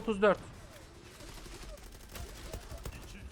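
Bursts of automatic fire from an FN FAL Quantum Plus rifle in the online shooter Zula, a quick rattling volley up front, then lighter scattered shots and impacts that trail away under game noise.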